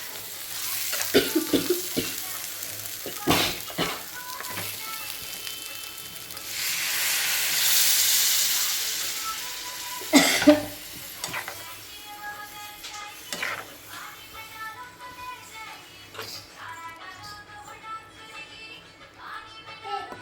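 Stuffed ridge gourd being sautéed in a pan, village style, with sizzling under scraping stirs and clatters, a louder hissing burst midway and sharp utensil knocks, close and uneven throughout.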